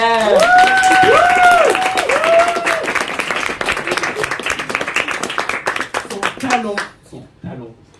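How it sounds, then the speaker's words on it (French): An audience at a drag show breaks into loud applause with some cheering, clapping steadily and then fading to quiet. A voice speaks over the start and a few words come near the end. "On l'applaudit, s'il vous plaît."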